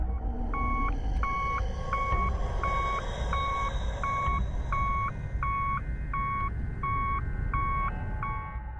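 A vehicle backs up with its reversing alarm beeping steadily in a regular two-tone pattern, about a dozen evenly spaced beeps, loud and constant over a continuous low rumble of engine and ambient noise.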